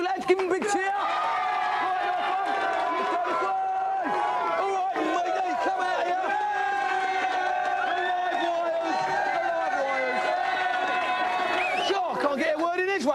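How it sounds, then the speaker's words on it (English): A TV studio audience on a video game show cheers for a team, a loud, dense wash of shouting and whooping voices that holds steady for the full stretch, with louder bursts near the end. "Give them a big cheer"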